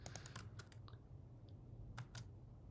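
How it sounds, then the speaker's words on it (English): Keys on a computer keyboard are tapped in quick clustered bursts, a few sharp clicks at a time with short pauses, near and fairly quiet with no voices. "Keep hitting keyboard shortcuts for save."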